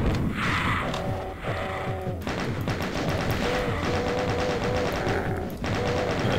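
The minigun in Doom II fires in rapid, continuous bursts of rattling shots over layered game sound effects and mechanical whirring, loud and sustained with brief pauses between bursts.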